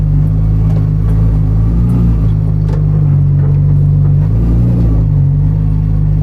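Full carbon Porsche 935 race car engine revving hard nearby, a loud deep rumbling drone with rising and falling pitch as the throttle is blipped, continuous and unbroken.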